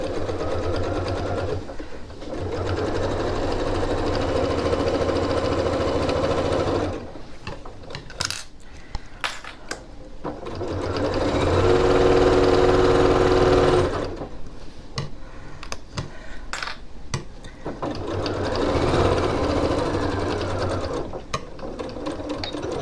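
A sewing machine stitching a half-inch seam on a reversible tote bag runs in two long steady whirring bursts, separated by short clicks and handling noises, with no talk.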